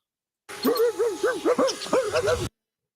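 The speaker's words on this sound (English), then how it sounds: "We've got a dog in the house." A dog inside a house lets out a rapid, close string of about ten high yelping barks with a howling, whimpering edge over two seconds, starting and stopping abruptly.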